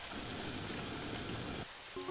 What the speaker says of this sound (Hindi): बाहर काफी तेज बारिश हो रही होती है